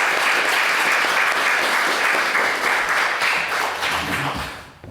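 Audience applause at a Latvian stage event, sustained and dense clapping from a crowd that holds steady for about four seconds and then begins to taper off at the very end.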